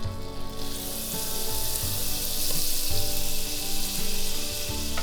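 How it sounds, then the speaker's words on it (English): About two tablespoons of butter melting in a pan, giving a steady, close, loud sizzle that holds evenly throughout with no talking. "I'm gonna put about 2 tablespoons of butter in here"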